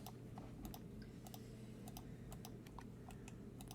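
Computer keyboard keys tapped while working in Blender 3D software, a quiet run of irregular clicks and taps over a low steady hum, with no one speaking.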